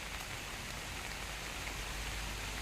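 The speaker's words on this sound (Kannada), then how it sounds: "ಇವಾಗ ಮಳೆ ಕೂಡ ಜೋರು ಬರ್ತಿದೆ ಅಲ್ವಾ" Heavy rain falls outdoors around grazing cattle at dusk, making a dense, even hiss that holds constant from start to finish with no talking.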